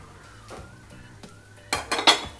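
A metal spoon scrapes and stirs fried papad with chilli in a pan, soft scraping at first, then a few sharp clinks and clatters toward the end, with no voices.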